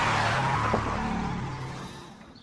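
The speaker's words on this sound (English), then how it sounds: "But Kevin instinctively hits the brake and he skids out of control again." A car skidding out of control after hard braking on a wet driving course, a loud sustained engine and tyre rush with a brief squeal that slowly fades away.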